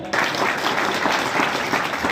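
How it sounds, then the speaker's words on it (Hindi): An audience at a Sondhiya Rajput community career guidance and talent felicitation ceremony in Rupakhedi breaks into loud, dense applause after a brief quiet start. The clapping rolls on steadily and fills the room. "जोरदार ताली बजाओ।"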